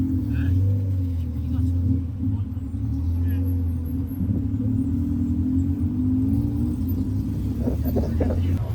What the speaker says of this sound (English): we are in our first tuk-tuk ride, going to Wat Pho.